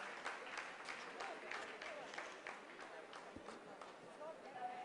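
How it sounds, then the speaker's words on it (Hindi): Scientists in a mission control room applaud after the Chandrayaan 3 lunar descent phase completes, a dense, steady wash of clapping heard at moderate distance beneath faint talk. "आप इस तालियों के गड़गड़ाहट को सुन सकते हैं"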